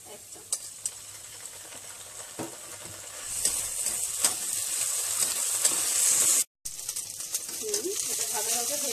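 Ginger garlic paste fries with spices for a chickpea dal curry, a close crackling sizzle that swells louder midway, broken by brief stirring scrapes and a short gap.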